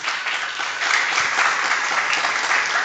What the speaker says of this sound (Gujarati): એકવાર જોરદાર તાળીઓથી ક્ષત્રિય સમાજને વધાવ્યું.